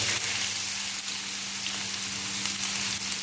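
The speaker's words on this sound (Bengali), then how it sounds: "তেল গরম হয়ে গেছে, এতে আমি দিয়ে দেবো পেঁয়াজ।" Onions fry in hot oil for an egg masala, a steady, dense sizzle heard close and alone with no voices.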